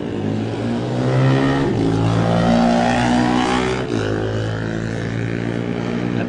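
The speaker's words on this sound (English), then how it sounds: "this is the Norton with Jamie Coward, so you can hear the bikes away" Classic TT superbikes, including a Norton ridden by Jamie Coward, pull away in a loud, sustained blast of revving engines that rises and then holds steady at close range.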